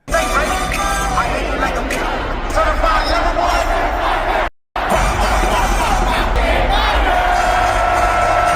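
A dense, loud concert crowd cheers and shouts at a show in Toronto, a continuous roar with a brief dropout midway.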